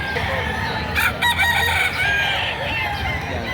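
A rooster crows loudly amid clucking chickens, with a busy outdoor murmur in the background, at a livestock market in Padre Garcia, Batangas, Philippines.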